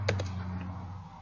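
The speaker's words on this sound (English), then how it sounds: "I'm just going to type in 1" A few quick keystrokes tap on a computer keyboard, two close clicks then a fainter one, alone over a low hum.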